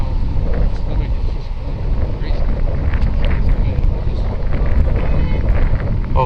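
Wind blows into a microphone outdoors on a hot, very windy day, producing a constant loud low rumble and buffeting with faint voices underneath.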